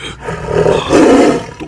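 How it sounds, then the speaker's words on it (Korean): A Korean tiger roars in an animated cartoon: one loud, close, deep growling roar swelling in two surges over under two seconds, with no voices. "그때 어두운 숲속에서 조선 호랑이 비호가 튀어나와 단숨에 닌자 도깨비들을 해치우는데"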